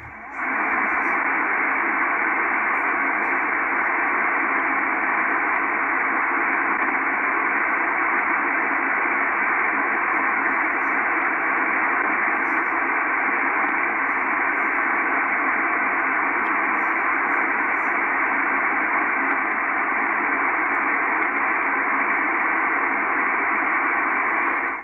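A Kenwood R-5000 receiver on an MLA 30 loop antenna, tuned to 2598 kHz on a quiet Canadian Coast Guard channel, gives a steady hiss of static that stays even and unbroken throughout.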